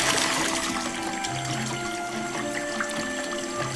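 KitchenAid stand mixer with a scraper beater on its slowest setting, churning fudge that sloshes in the bowl; a steady, loud motor whir with wet churning texture, continuous and close.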